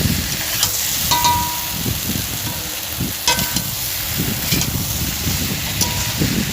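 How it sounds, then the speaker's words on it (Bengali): Shrimp curry with Malabar spinach, pumpkin and potato sizzles loudly and steadily in a pan as water is added, with scraping stirs and bubbling crackle running throughout and no talking. "এরপরে আমি পরিমাণ মতো জল দিয়ে দেবো।"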